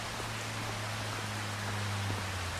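Steady rainfall in the farming video game Farming Simulator 25, a dense even hiss of rain with a low engine-like hum running underneath and a few faint ticks, constant throughout without talk.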